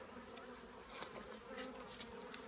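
Honey bees buzz around an open hive during an inspection, a faint, close, shifting drone with individual bees flitting past the listener, no talk.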